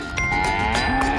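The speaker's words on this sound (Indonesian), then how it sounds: "Keluarlah seekor sapi." A toy cow gives a single loud, sustained electronic moo lasting about a second, with steady tonal harmonics and no talk over it.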